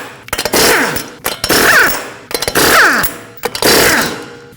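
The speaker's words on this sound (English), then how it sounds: "you're going to use a 21mm socket to remove all 5 lug nuts and then remove the wheel" An impact wrench with a 21mm socket zips off wheel lug nuts on a 2020s Toyota Corolla, four loud bursts of rattling hammering with short pauses between, each nut spinning loose in turn.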